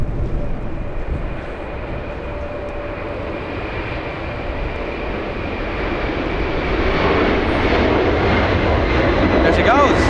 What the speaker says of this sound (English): close-up departure on runway 24 right